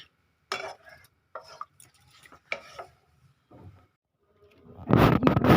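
A spoon stirs milk in a pot for North Indian carrot halwa, giving a few separate scraping, clinking strokes against the pot. Short pauses fall between them, then louder, denser scraping and bubbling follow near the end.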